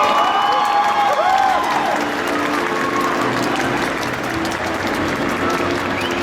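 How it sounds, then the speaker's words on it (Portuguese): Crowd at an anime convention stage show in Brazil applauding a Japanese singer, with sustained clapping and a few cheers and whistles, loud and continuous throughout. "Palmas para ela."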